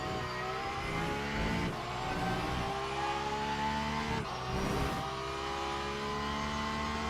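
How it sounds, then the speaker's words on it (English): Wingless Peugeot GT3 race car in the Le Mans Ultimate sim game, engine revving hard and climbing through gears with brief shift dips, continuous and loud. "we're gonna pick indeed the wingless Peugeot here and show how quick it can go on the Mulsanne"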